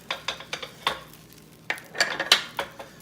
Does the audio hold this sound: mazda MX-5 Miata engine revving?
no